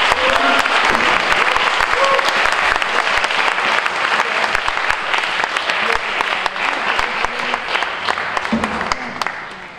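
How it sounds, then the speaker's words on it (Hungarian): An audience applauds a drummer at a Hungarian music event, with steady, dense clapping that holds strong for nearly ten seconds and then eases slightly at the end. "Tapsot a dobosnak, aki csak jött és játszott."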